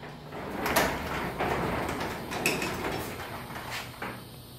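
A residential garage door rolls along its track during a balance check, a continuous rumbling slide with a few louder clunks and knocks as it moves, fairly close and steady for several seconds.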